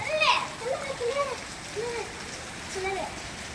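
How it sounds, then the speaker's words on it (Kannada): Steady rain hisses softly in the background while people, including a child, talk over it; the season's first rain in Sidlaghatta. "ನೋಡಿ ಸ್ನೇಹಿತರೆ ಮಳೆ ಚೆನ್ನಾಗಿ ಬಿದ್ದಿದೆ"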